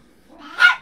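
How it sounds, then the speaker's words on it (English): A puppy gives a single short bark, close and fairly loud, after a faint low rumble. "Did you guys hear my puppy bark?"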